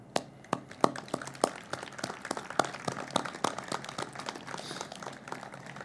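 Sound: applause at remembrance ceremony

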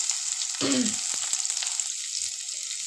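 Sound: mustard seeds, dry chilies and onion frying in oil in kadai

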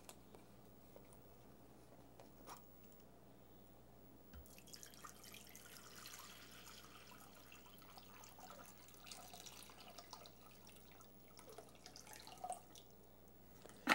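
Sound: water poured into a bowl

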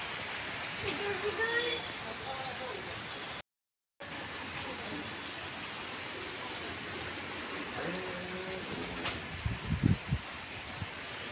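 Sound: rain falling

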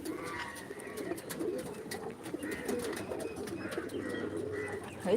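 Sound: pigeons cooing, cross-breed pigeons

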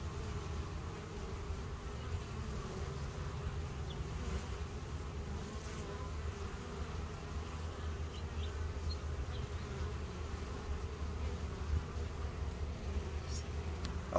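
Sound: honeybees buzzing around an open bee colony hive

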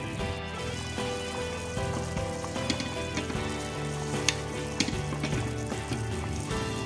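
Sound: stirring creamy chicken macaroni sopas cooking in pot

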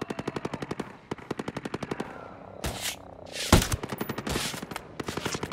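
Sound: gunfire in a video game

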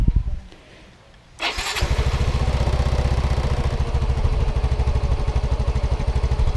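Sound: Yamaha Mio i 125 scooter engine running after throttle body cleaning

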